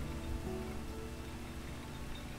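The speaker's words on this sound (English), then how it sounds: "Hopefully it'll stop raining soon." Steady rain falls in the winemaking simulator game Hundred Days, a continuous even hiss of drops with no other sounds over it.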